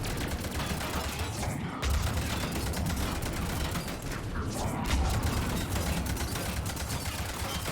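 Sustained gunfire in Mass Effect 3 combat, a dense stream of rapid mechanical shots with a couple of heavier low thumps, loud and continuous throughout.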